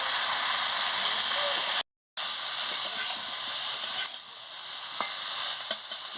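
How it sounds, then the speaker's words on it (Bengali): Cauliflower and potato frying in a pan, a steady close sizzle and hiss with faint scraping stirs, broken by a brief silent gap early on. "ভালো করে একটু কষিয়ে নিচ্ছি।"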